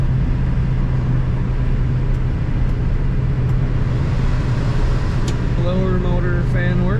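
The blower motor fan of a 1968 Ford Mustang Sprint hardtop with a floor-shift automatic roars as a loud, constant, even rush of air. A voice comes in faintly near the end.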